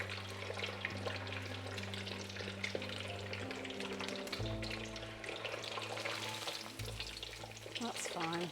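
Cubes of paneer deep-frying in small batches in deep oil, giving a steady, dense bubbling sizzle throughout, close and continuous with a low hum underneath.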